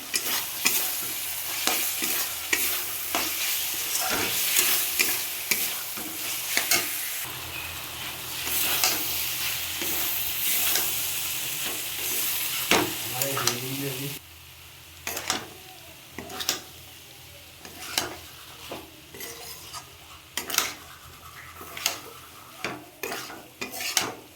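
Dal for ghugni frying in a pan, stirred steadily for a long stretch, with a continuous hissing sizzle and repeated close scraping strokes of a spoon against the pan.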